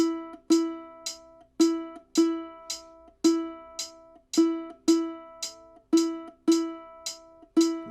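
Ukulele plays a simple beginner exercise alone, steady repeated plucked notes in an even rhythm with each note ringing and decaying before the next, clear and close.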